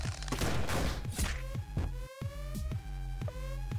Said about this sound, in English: Nern's weapon of choice is a gun.